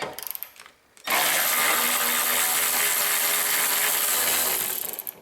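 Power tool or ratchet working a 13mm socket on the hood latch nuts of a Jeep Grand Cherokee, a few short clicks followed by a loud, steady whirring run that cuts off near the end.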